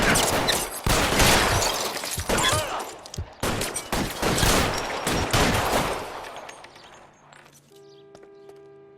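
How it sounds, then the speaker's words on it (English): Sustained suppression gunfire in L.A. Noire, dense overlapping shots rattling loudly for several seconds before thinning out and dropping away to quiet game ambience. "I'll lay down some suppression fire"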